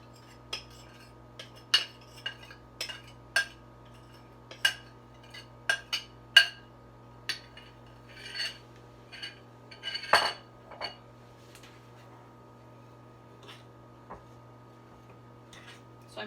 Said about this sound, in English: So I'm still using that big mixing fork to keep mixing this.